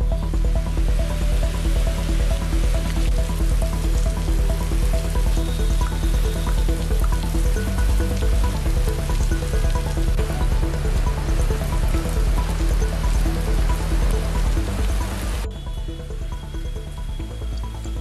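Heavy morning downpour in Delhi NCR, a steady dense hiss of rain and dripping water that holds constant for most of the stretch before dropping to a softer level near the end.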